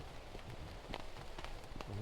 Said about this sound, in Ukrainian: дощ пішов капець